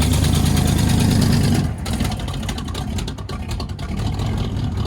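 A Chevy Silverado with a cammed 5.7L V8, long tube headers, true dual exhaust and high-flow mufflers idles close by with a deep, loud, steady rumble that eases slightly after a moment.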